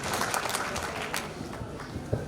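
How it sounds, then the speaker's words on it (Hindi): An audience at a retirement ceremony applauds to welcome a speaker, a steady crowd clapping that stays even and fairly distant, with faint voices underneath. "आप सब जोरदार तालियों से उनका स्वागत करें।"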